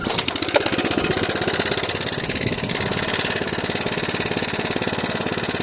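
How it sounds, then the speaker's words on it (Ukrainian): A small petrol engine on an Oleo-Mac 155K cultivator runs steadily at a fast, even idle, its rapid chugging continuous and close with no voices. "Запускаємо наш двигун."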